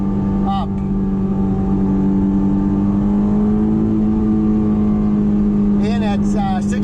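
Inside a Honda S2000 roadster with the top up: a loud, steady engine and road drone with a low hum runs throughout, and brief higher whines rise near the start and end.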